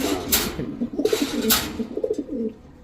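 Red Danish pigeons coo close by in a series of soft, throaty calls, broken by a few brief bursts of flapping or rustling.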